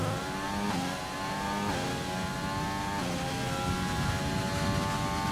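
A Formula 1-style race car engine in a racing simulator game, on the Abu Dhabi track in league racing, revs up steadily through the high gears to maximum revs: a continuous, dense, rising engine whine with no talking.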